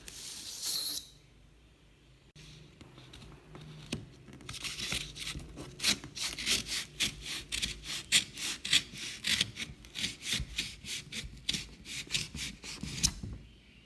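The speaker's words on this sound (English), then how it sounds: "So let's cut this paper with this." Scissors cut through a sheet of paper up close, a quiet rustle followed by a long, steady series of rapid snipping strokes.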